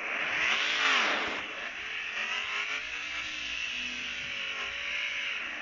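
A gasoline-engine tow truck in the off-road racing game Offroad Outlaws accelerates, its synthetic engine note swelling into a loud rev, then settling into a steady drone with no talk.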